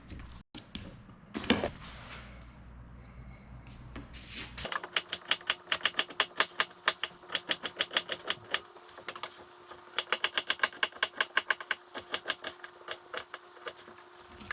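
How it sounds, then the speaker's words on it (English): Knife quickly dicing celery, bell peppers, onions and serrano chilies on a cutting board, a rapid run of sharp, evenly spaced chops following a few scattered knocks at the start, close and fairly quiet with no talk. "Perfect size, just a quick dice,"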